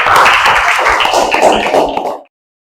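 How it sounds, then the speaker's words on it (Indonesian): Classroom of students in an Indonesian Islamic civilization lesson applauding a classmate: a loud, dense burst of many hands clapping together for about two seconds before cutting off abruptly into silence. "tepuk tangan untuk teman kita"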